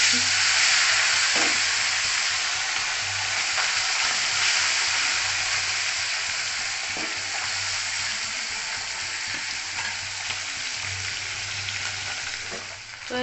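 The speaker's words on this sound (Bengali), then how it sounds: "তো এই যে আমি লাল লাল করে এই মাছটাকে ভাজে নিচ্ছি চচ্চড়ি করবো বলে" Small mourola fish fry in hot oil for a chachchari, giving a steady, loud, dense sizzle throughout, with a few soft clinks and stirring bumps and a low hum underneath.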